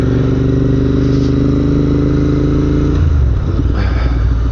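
Royal Enfield INT650 parallel-twin motorcycle fitted with S&S exhaust, a loud close rumbling engine note held steady while riding in sub-zero cold, shifting lower and rougher after about three seconds.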